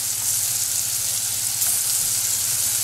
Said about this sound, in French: De l'autre côté, je fais dorer mes morceaux de mangue. Pareil, dans du beurre bien chaud.